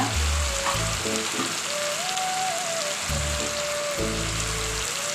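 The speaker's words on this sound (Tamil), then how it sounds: "தக்காளி வெங்காயம்லாம் நல்லா வதங்கிடுச்சுங்க இப்போ நம்ம கொஞ்சமாக மஞ்சத்தூள் சேர்த்துக்கலாம்" Tomatoes and onions sautéing with turmeric in a pan for a fish curry: a loud, steady sizzle and crackle throughout, with faint tonal music underneath.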